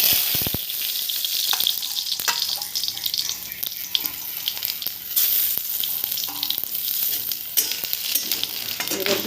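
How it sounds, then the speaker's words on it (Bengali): Cumin seeds hit frying onions in hot oil while soybean is being prepared, setting off a loud, continuous crackling sizzle with occasional sharper pops and stirring noises. "পেঁয়াজগুলো একটু ভাজা হয়ে গেলে এবার যে অবশিষ্ট জিরেটা ছিল সে জিরেটা দিয়ে দিলাম"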